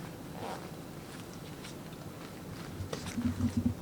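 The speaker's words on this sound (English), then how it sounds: "And then the zipper does up" A zipper is drawn up on glitter high-heel ankle boots, a soft rasping pull that ends in a few quick, closer scratchy strokes over quiet room noise.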